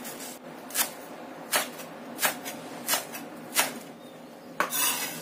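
Thin slicing of washed spring onions with a knife, a series of sharp, evenly spaced chopping taps on a board, close and distinct, with no talking.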